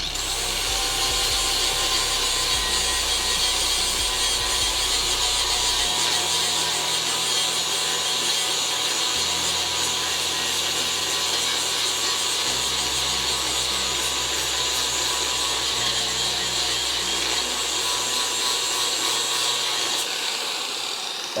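An angle grinder takes quick, steady passes on metal during a Crew Cab Dodge Charger restoration, a continuous loud abrasive whine holding over a low droning hum for the whole stretch.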